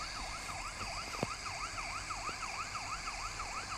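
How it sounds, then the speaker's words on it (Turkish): A police car siren in the video game Car Parking wails, sweeping up and down in steady repeated cycles over a constant background hum, with a brief sharp tone partway through. "Sirenini de yakmış."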